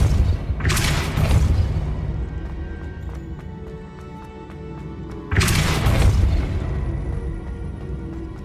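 The Depulso spell in Hogwarts Legacy fires off twice as deep booming blasts a few seconds apart, each a loud thud with a long decaying rumble. Quieter game ambience and faint clattering fill the gap between them.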